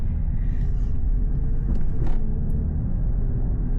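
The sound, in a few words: Mercedes GLE 53 AMG driving, engine and exhaust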